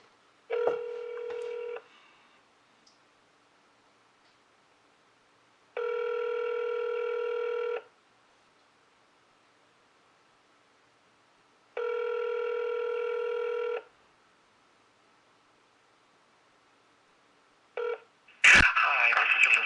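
Telephone keypad dialing tones sound in short bursts, a quick cluster of beeps followed by two longer tones separated by silence, ending in a brief abrupt noise.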